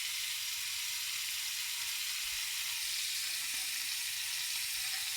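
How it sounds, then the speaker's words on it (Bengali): A fish sizzles steadily in hot oil in a pan, giving an even, close, continuous hiss with no pause and no voices over it. "দেখো মাছটা উল্টে পাল্টে দিই। দেখো ভাজা হচ্ছে"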